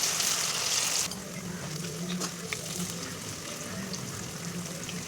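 Potatoes deep frying in oil give a steady bright sizzle, loud at first and then settling into a softer continuous crackle close by.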